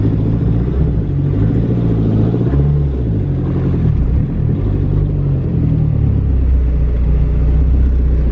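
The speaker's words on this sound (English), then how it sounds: "Okay, I let out the clutch and didn't stall." A manual-transmission car's engine rumbles low and steady as the clutch is let out, holding a loud, continuous idle-like drone with slight shifts in pitch throughout, no talk over it.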